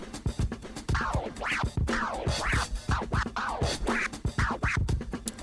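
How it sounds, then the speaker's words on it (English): Rhythmic DJ turntable scratching cuts short and long baby scratches over a steady beat, with repeated rising and falling sweeps, loud and close throughout. "A rhythm scratch. Short and long baby combo."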